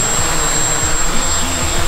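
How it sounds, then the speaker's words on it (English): A homemade drone carrying a GoPro lifts off, its propellers giving a loud, steady whirring drone with a high whine running nonstop from start to finish. "The drone requires a lot more power to take off because of the extra weight."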